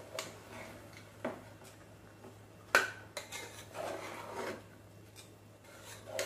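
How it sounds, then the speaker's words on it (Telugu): Chicken biryani with masala, rice and chicken is stirred slowly in a cooker: faint, sparse scraping and an occasional metallic clink of the spoon against the pot, quiet throughout. "ఇలా మొత్తం మసాలా బియ్యం అన్నీ చికెన్ కలిసేలాగా ఒకసారి ఇలా కలపండి నిదానంగా"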